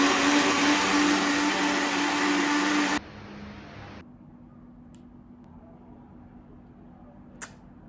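A loud, steady frothing whir whips keto vegan bulletproof coffee made with coconut oil and coconut milk for about three seconds, then winds down into a quieter hum and near silence with a couple of faint clicks.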